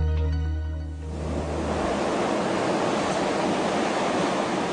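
Storm-surge waves from a hurricane pound the coast in a loud, continuous roar of crashing surf. A few seconds of steady, broadband rushing water follow a brief tonal opening, with no voices.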